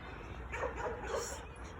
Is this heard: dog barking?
yes